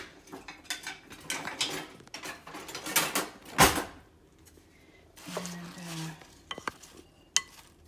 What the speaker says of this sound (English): next we're going to mix this all around